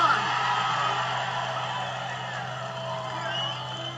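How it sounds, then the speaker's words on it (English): Crowd at the 1964 Nationals drag race cheering after the Color Me Gone Dodge's upset win over the Ram Chargers, a steady roar of distant voices and whoops that holds for the whole span under a low hum. "A big upset and the crowd is overjoyed."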